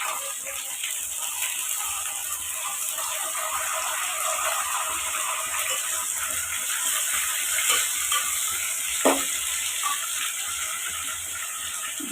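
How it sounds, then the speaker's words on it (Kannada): Onions sizzle steadily in a pan for chicken biryani, a constant close frying hiss with a few faint clinks of stirring partway through. "ಈರುಳ್ಳಿ ಚೆನ್ನಾಗಿ ಸ್ವಲ್ಪ ಫ್ರೈ ಆಗಲಿ ಕೆಂಪು ಕಲರ್ ಆಗಲಿ"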